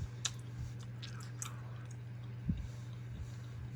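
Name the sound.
chewing a chocolate protein bar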